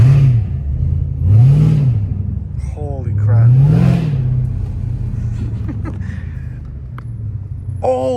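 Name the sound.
straight-piped catless Hellcat Redeye engine idling and revving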